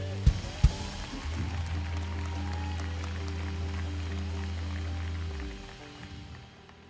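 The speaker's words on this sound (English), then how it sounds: "you better clap louder than that." Church congregation clapping during an evening service, a soft, scattered patter of hands under a low sustained organ-like hum that fades out near the end, with a couple of sharper knocks at the start.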